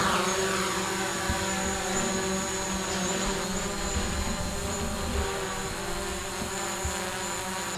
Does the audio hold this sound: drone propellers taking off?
yes